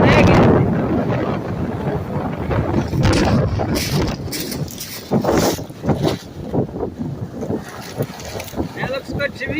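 Gusty wind on the windy side of a lakeshore buffets the microphone in broad rumbling bursts, with people talking close by throughout.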